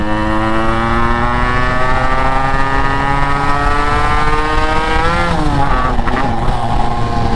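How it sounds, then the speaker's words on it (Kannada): A vehicle called Dulari pulls hard in second gear on a top-speed run, its engine droning loud and steady with a pitch that climbs, wavers and shifts near the end, with no talk over it. "ಸೊ ಗೈಸ್ ಟ್ರೈ ಮಾಡೋಣ, ನೋಡೋಣ ದುಲಾರಿ ಹೆಂಗೆ ಓಡ್ತೈತೆ ಇಲ್ಲ ಅಂತ. ಸೊ ಸೆಕೆಂಡ್ ಗೇರ್ ಅನ್ಕೊತೀನಿ."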